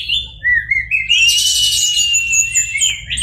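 An orange-headed thrush sings loudly and close, pouring out a continuous run of bright, varied whistles, trills and chirps with no pauses.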